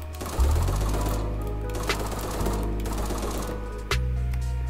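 Rapid, rattling automatic fire from an AK rifle in the browser shooter Krunker, steady bursts with brief breaks and a sharper shot near the end, loud and alone.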